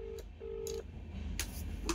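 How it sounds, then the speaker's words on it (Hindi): A phone call rings out unanswered: two steady ringback tones with a gap between them, fairly loud over a low background hum, with a couple of short clicks near the end. "फ़ोन जा रहा है, मगर रिसीव नहीं कर रहे"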